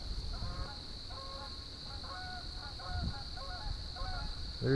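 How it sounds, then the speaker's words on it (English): Geese honk over and over through the night air at a campsite by the water, a steady chorus of overlapping calls at middle distance with a constant high insect drone behind them. "Geese are noisy tonight."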